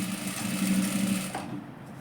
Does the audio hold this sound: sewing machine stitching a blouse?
yes